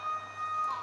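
A siren drones in the horror game Mental Hospital V, a steady sustained electronic tone held for under a second, moderately loud with a faint low hum beneath.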